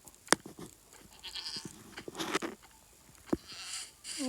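Repeated bleats from goats in the game Minecraft, several short quavering cries scattered across the stretch, some louder and nearer, mixed with light pattering thumps of movement.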